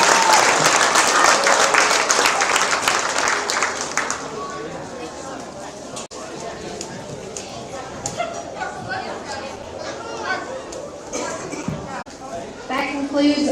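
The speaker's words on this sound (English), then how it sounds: "Let's give all those young kids a round of applause." An audience at a small animal show claps for young kids after junior showmanship, with strong applause at first that thins into scattered clapping and crowd murmur, while an announcer talks over it.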